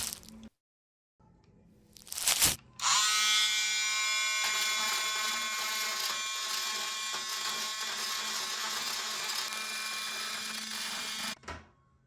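A power tool removes old, dark, moldy grout between bathroom tiles with a loud, high-pitched whining buzz that holds steady for about eight seconds after a short start-up burst, then cuts off.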